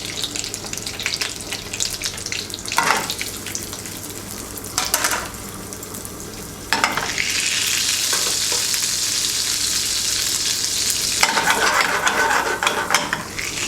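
A clove of garlic fries in melting butter in a pan, giving a steady, loud close sizzle that swells sharply halfway through and keeps hissing to the end, with brief clicks and scrapes before it.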